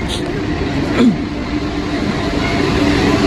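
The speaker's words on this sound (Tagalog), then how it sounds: "So ito na ang train natin." A Paris metro train arrives, rumbling steadily nearby with a faint metallic squeal, a continuous rolling roar that fills the whole clip.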